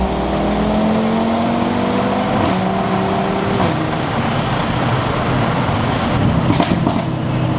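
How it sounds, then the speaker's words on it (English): An Audi Quattro accelerates hard, its engine note climbing steadily and then dropping sharply at two gear changes, where a brief crack can be heard. The engine then pulls on through the next gear, loud and close, with no talk. "So obviously you get that nice crack on the gear change, which I love personally."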